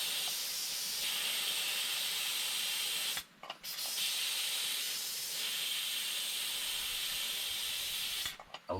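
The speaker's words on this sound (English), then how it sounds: "I'm going to release the steam. Release the pressure. You can hear it hissing there." Steady loud hissing of steam escaping under pressure from a pressure cooker, continuous for several seconds with two brief dips before resuming.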